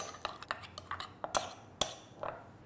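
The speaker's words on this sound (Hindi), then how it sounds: "इसमें हम डालेंगे थोड़ा सा चॉप्ड गार्लिक और इसे अच्छे से मिक्स कर लेंगे" Soft butter being mixed with chopped garlic in a bowl, with a series of scattered light clinks and scrapes of a utensil against the dish, fairly quiet and irregular, no talking.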